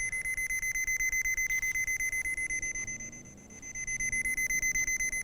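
A rapid, pulsing high electronic tone repeats steadily from an Armada Pro881 underground cable locator receiver, with a faint low rumble underneath.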